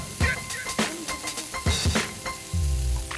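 Dry-aged beef sizzles loudly on a Korean barbecue grill at close range, with crackling bursts and occasional clatter of tongs as the meat is moved and turned.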